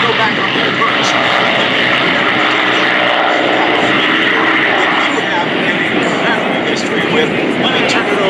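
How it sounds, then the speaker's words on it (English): P-51 Mustang propeller warplanes take off at the MCAS Cherry Point air show with a loud, steady engine roar that holds through the whole stretch, close and dense, with no break. "As these P-51 Mustangs take off"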